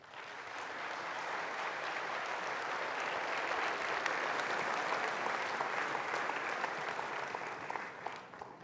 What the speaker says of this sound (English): I think we could do with another round of applause there.